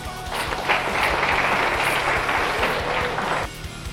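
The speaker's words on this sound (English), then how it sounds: "Please give them all a round of applause." A room full of people at a 2013 cadet award ceremony breaks into applause, a dense, sustained clapping that swells and then drops off near the end, with faint background sounds.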